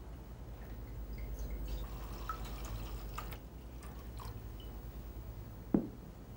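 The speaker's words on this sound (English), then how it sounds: "pour some dry white wine into a saucepan." Dry white wine poured into a saucepan in a French kitchen, heard as faint, soft liquid trickling and dripping, with a single sharp clink near the end.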